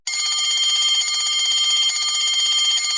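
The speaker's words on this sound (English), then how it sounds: "On pressing the switch, you will be able to hear the bell ringing." An electric bell rings inside a glass bell jar in a classroom sound demonstration, a continuous rapid metallic trill with a bright buzzing ring, steady and loud for the whole stretch without pause.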